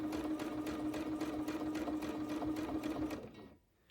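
A domestic sewing machine runs steadily during free motion quilting on a quilt border, a close, rapid, even stitching whir with a regular pulse that stops abruptly near the end.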